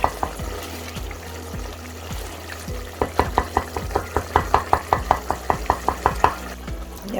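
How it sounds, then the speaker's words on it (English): A wooden spoon mashes softened onions in a pan with a quick run of sharp, regular taps and squelches over a low sizzle, following a few slower scrapes. "So with the wooden spoon, we're going to mash it up as much as we can."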